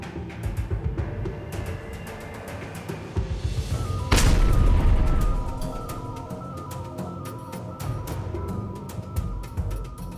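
A thrown explosive device detonates with a single loud, heavy boom partway through, preceded and followed by a dense, continuous crackle of gunfire and background battle noise.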